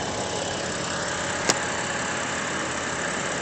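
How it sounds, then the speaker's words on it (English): BMW 535i turbo engine idling with the hood open, a steady, even hum with a single brief click partway through and no voices. "very interesting BMW engine"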